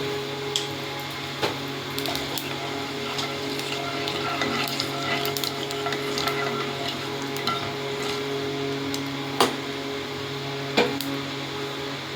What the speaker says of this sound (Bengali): এই যে কালো জিরে দেওয়া হচ্ছে।